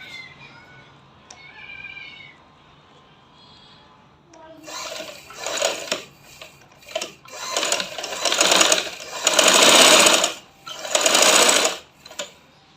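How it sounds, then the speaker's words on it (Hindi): A sewing machine stitching elastic into a ladies' lehenga, with quiet handling noises before the motor starts in bursts that run longer and louder, ending in a near-continuous whir. "मैं अपनी सिलाई शुरू कर रही हूँ इसमें"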